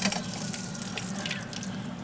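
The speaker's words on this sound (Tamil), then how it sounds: "இந்த மாதிரி 2-3 தடவை கழுவணும்" Turkey berries being washed under running water, a continuous splashing tap stream with small drips and clinks, close and steady throughout.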